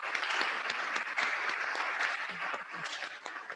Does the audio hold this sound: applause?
yes